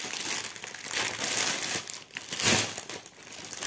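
Plastic packaging of a cross-stitch kit crinkles and crumples loudly up close as it is torn open, in steady rustling bursts with no talking.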